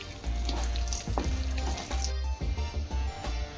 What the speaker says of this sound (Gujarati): અને આને હું સાતળી દઈશ